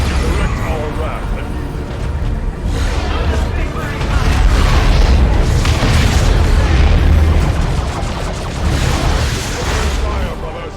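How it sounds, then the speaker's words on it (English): A grenade detonates amid a battle in the real-time strategy game Dawn of War II: Chaos Rising, with heavy booms and continuous explosive rumble, loud and dense, while voices talk over the fighting. "Tactical squad, use a grenade."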